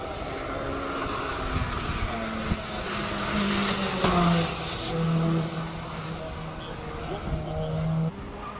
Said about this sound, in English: Shane Naidu in the Mitsubishi Evo 9 now taking on the hill.